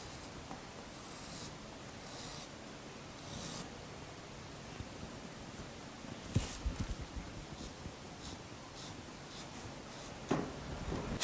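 A marker scratches in repeated rubbing strokes as a straight line is traced on fabric along a tape guide while cutting a shirt dress. The strokes are close and fairly soft, with a few sharper scuffs and no speech.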